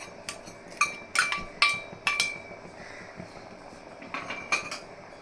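Mutton biryani being mixed with coriander leaves in a pot: several sharp metallic clinks and scrapes of a spoon against the vessel come in irregular bursts, close and moderately loud, with no talking.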